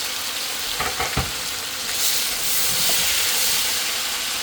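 Chopped tomatoes dropped into a hot pan for biryani, setting off a loud, steady frying hiss with a couple of thuds as they land, the sizzle swelling toward the end.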